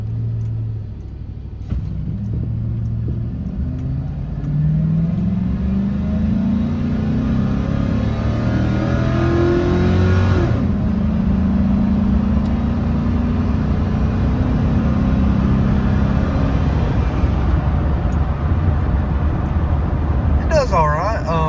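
A 2005 Chevy Silverado with a 4.8 V8 is held on the brakes while the engine revs, rising to a loud, sustained droning rumble inside the cab, with someone talking over it.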